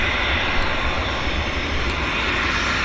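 A business jet's engines roar at Vancouver International Airport, a loud, steady, broadband rush with no break in it, heard from nearby.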